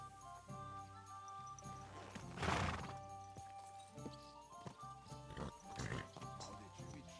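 Horse hooves clop steadily in Kingdom Come: Deliverance II, with a mid-clip neigh or whinny rising over soft ambient game music.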